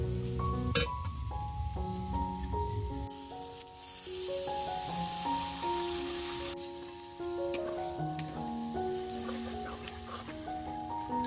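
Boiled cabbage and tomato go into a pan of frying masala for a Bengali cabbage bharta, a steady close sizzle with stirring scrapes over music, the frying continuing throughout.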